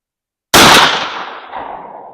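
A single sharp, loud shotgun blast from an H&R rifled 32 gauge firing a 225-grain slug, a sudden crack followed by a long fading echo, alone with no talk.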